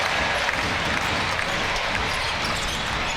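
Crowd at a FIBA EuroBasket 2017 basketball game between Israel and Ukraine, a dense, loud, continuous roar of cheering filling the arena, with sneaker and ball noise blended in.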